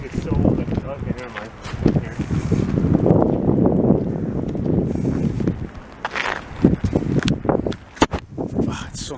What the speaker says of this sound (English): it's so nice to be outside, and there's a warm wind